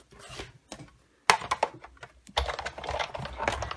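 A blade cuts through two layers of card with soft, close scratchy strokes and small clicks, starting and stopping irregularly at low volume.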